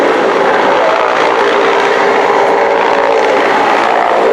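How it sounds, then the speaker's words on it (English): A military helicopter flies off after deploying a special forces assault team at an army display, leaving a steady, broad rotor and engine roar that fills the whole clip at constant loudness with no voices. "the helicopter has moved out of sight to allow for the team to conduct the operation"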